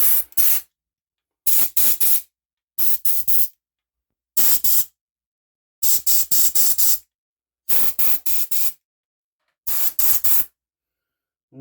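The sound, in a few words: compressed air blowing out Stihl MS181 chainsaw parts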